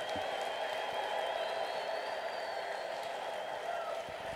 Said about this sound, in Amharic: እስቲ የማያቋርጥ እልልታና ጭብጨባ አምጡ